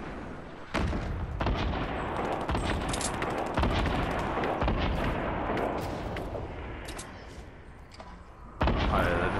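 Video game gunfire erupts in loud, dense bursts of rapid shots and booming blasts, nearly continuous across the stretch with brief gaps, over faint background voices.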